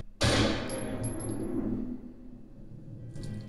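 A single sharp gunshot from the anime Ninja Kamui cracks loudly and rings out with a metallic tail, followed by a fainter second hit near the end.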